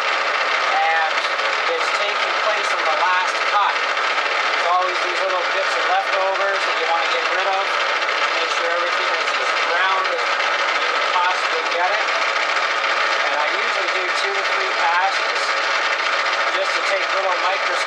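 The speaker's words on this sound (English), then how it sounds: "I started doing my finishing pass, which I always do when I want something really super concentric." A metal lathe running a fine finishing pass at 550 RPM while making a buffer polishing pad arbor, giving a steady, even mechanical drone throughout under continuous talking.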